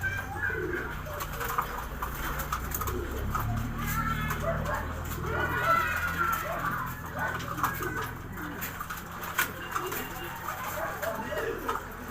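German Beauty Homer pigeons coo steadily while being fed amid background chatter and farmyard noise, with a dog barking faintly somewhere in the distance.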